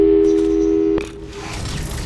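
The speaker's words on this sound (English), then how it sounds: "let's give your parents a call right now" Telephone call tones in the video game Portal 2: a steady, clear electronic tone holds for about a second, then cuts off with a click, leaving quieter background hum.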